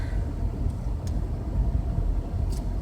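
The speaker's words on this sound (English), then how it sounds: "Driving down to Annapolis." A car drives along a road toward Annapolis, its steady interior rumble and tire noise continuous and fairly loud, with a few faint higher ticks on top.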